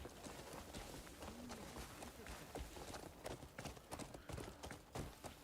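Hooves of a horse in a video game clop repeatedly as the animal steps backward, a quick, uneven series of fairly close knocks over a soft background.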